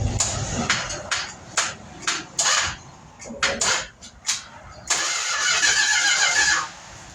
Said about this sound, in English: Okay, crank it. Crank it.